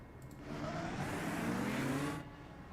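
An IndyCar race car in the iRacing game at Milwaukee drones past with a rising engine tone, swelling louder for a couple of seconds before easing off, no voices over it.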